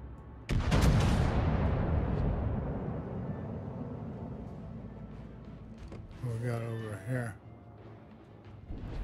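Heavy naval guns boom once in World of Warships, a loud blast that fades into a long rumbling decay, followed by a short burst of speech and quieter background game noise.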